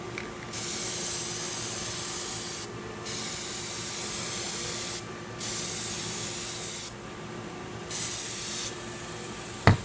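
A black spray paint can sprays onto a Chevy bowtie emblem in five long hissing bursts separated by short pauses, loud and close, ending with a brief click.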